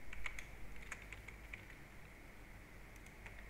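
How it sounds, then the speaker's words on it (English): Quiet clicking of computer keyboard keys in short irregular bursts, light and close, with soft room noise between the strokes. "So I'm going to go ahead and type in the 28 first name"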